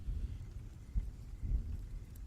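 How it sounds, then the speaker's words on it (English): Low, rolling thunder rumbles on its own in a faint, continuous wash, with no voices. "There was a noise of thunder in the background noise."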